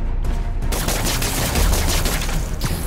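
Sustained gunfire from the Spider-Man video game, featuring Fake Rhino, Fake Lizard and Fake Vulture. A loud, dense fusillade of rapid overlapping shots runs without a break, with occasional heavier booms.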